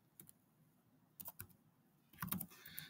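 Bursts of keystrokes on a computer keyboard while coding JavaScript, with scattered clicks in short clusters and a denser flurry of rapid typing near the end, close and fairly quiet.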